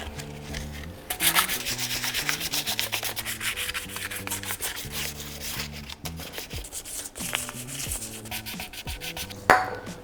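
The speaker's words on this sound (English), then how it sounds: "And now let's get to sanding." Continuous abrasive rubbing of sanding against a Renault 5 GT Turbo engine's gasket surface, steady and close, with rhythmic back-and-forth strokes throughout.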